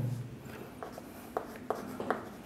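Chalk or marker scratching across a board in a maths lesson for a Class 6 class, a series of short strokes and taps with a steady room hum underneath and no talk.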